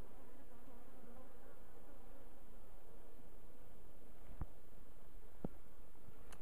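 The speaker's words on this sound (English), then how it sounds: "these bees are landing on me, Frank, but they're not stinging me." Steady, close buzzing of many bees during an early-spring top-bar hive inspection fills the clip, with a couple of faint taps toward the end and no talking.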